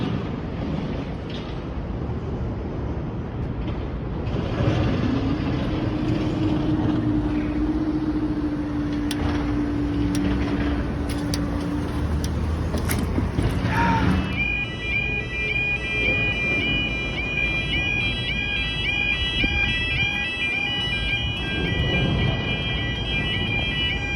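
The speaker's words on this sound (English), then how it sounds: "Train approaching." A train rumbles through the level crossing at Avonmouth Docks Junction, a steady loud wash of wheel and engine noise. Bright sustained tones, probably from the crossing, ring clearly through the second half.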